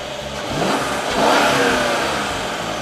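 A powerful 4.6-liter bi-turbo V8 engine of a 2014 Mercedes-Benz S-Class revs up, swelling to a loud roar and then holding at a strong, steady drone close by.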